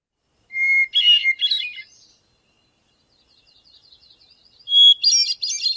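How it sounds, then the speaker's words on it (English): Hermit thrush song along the Great Divide Trail: clear, flute-like phrases, each opening on a held whistle and breaking into rapid higher trills, heard twice with a faint thin phrase between them in quiet surroundings. "one of the quintessential bird songs of the GDT with you, and that is of the hermit thrush"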